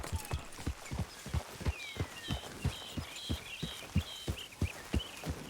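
Horse hooves walk at a steady, even clip-clop pace in the Red Dead Redemption 2 video game, with close, regular clops and bird calls chirping faintly in the background. No one speaks.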